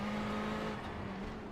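A Ferrari 488 GTE in a racing game at Monza drones with a steady engine hum as another car runs close alongside on the right, fairly quiet and even throughout, with no talking.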